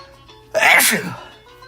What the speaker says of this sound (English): I'm in my seat sneezing again.